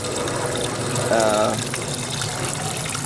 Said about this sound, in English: So that water has been running for about 5-10 minutes.